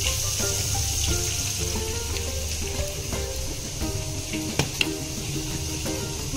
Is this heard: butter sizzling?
yes